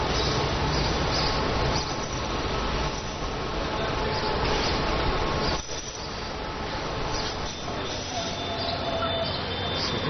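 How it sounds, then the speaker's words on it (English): Train on the old Orient Express route near Istanbul, a loud continuous rolling rumble of rail cars with wheel squeal and clanking, close by and dominating throughout. "incredibly, the train is still running"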